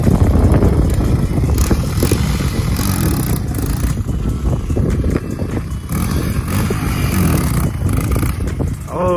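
A Honda XR100 dirt bike revs loud and close through a wheelie, the engine buzzing and surging in uneven bursts as the throttle is worked, with wind rumble over the microphone.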